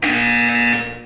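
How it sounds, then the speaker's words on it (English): A single Portal 2 buzzer sounds: a loud, steady electronic tone lasting about a second that holds evenly, then fades slightly at the end, with nothing else around it. "You will hear a buzzer."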